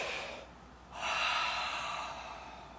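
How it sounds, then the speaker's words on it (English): Slow, deep breathing: a soft inhale, a brief pause, then a longer, fuller exhale, close and quiet with no talk. "So I breathe in, and then I breathe out."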